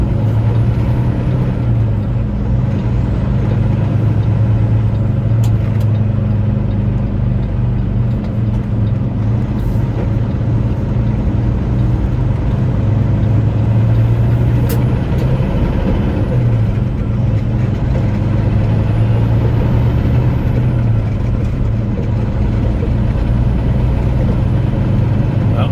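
A pickup truck driving on North Dakota roads during flooding gives a loud, steady low engine drone and road rumble, heard from inside the cab without talk.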